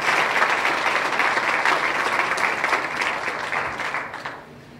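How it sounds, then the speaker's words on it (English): An audience at a business awards event for Ventura County's fastest growing companies gives a round of applause. The clapping is full and sustained, then gradually fades toward the end. "let's give a nice round of applause to Jay Hardy"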